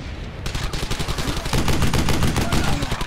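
Dense, rapid gunfire from the World War II shooter Brothers in Arms: Hell's Highway, a loud continuous stream of overlapping shots that grows heavier partway through.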